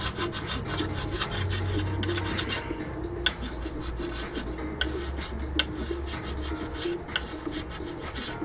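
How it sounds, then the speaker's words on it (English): Steady scraping and rubbing on the plastic body of a 1/20 AMT Toyota 4x4 pickup model, scratched up deliberately for a weathered look; continuous close rasping with a few sharper scrapes, no talking. "I'm scratching the crap out of this, and that's on purpose."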